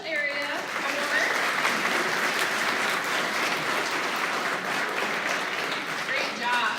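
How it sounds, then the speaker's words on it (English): Steady applause for the special area awards at a school awards ceremony for grades 3 to 6, a room full of clapping that holds evenly for about seven seconds, with faint voices at the edges. "one more round of applause for all the special area awards"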